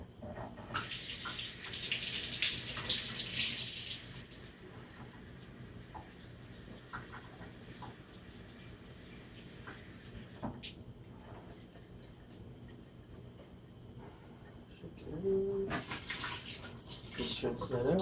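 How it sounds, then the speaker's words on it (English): Clean water runs from a tap to rinse items, a loud stream at the start, then a quieter trickle with light handling noises and a few clinks, before the flow comes back strong near the end. "And now we'll just rinse with some clean water again."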